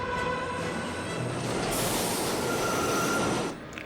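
A subway train from a film set, its electric motors swapped for four Chevy 454 engines, rumbles loudly and steadily with a metallic wheel squeal riding on top before it eases off near the end.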